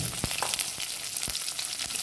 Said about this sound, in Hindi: भिंडी हमने इसमें फ्राई कर लेंगे।